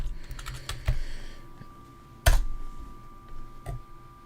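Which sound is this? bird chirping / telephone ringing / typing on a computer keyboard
typing on a computer keyboard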